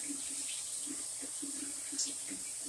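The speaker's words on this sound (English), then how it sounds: "I'm going to put a little bit of cold water on the macaroni and cheese." Cold tap water runs steadily onto hot cooked macaroni and cheese in a kitchen, a faint, even hiss of flowing water with soft splashes.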